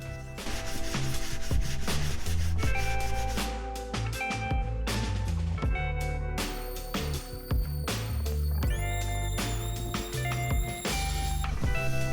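Sanding a carved wooden skateboard deck by hand, a continuous dense rasping rub with rhythmic strokes and brief pauses, close and loud, alone without speech.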